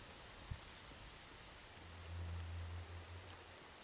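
Steady rain at night in the game S.T.A.L.K.E.R.: Call of Pripyat, a faint continuous hiss with a low droning hum rising partway through and one soft knock, no voices.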